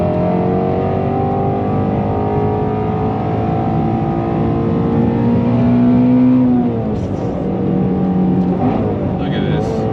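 A 2020 Shelby GT350R's engine drones steadily as the car is driven through twisty roads, with a rising and falling note near the middle and faint speech over the top.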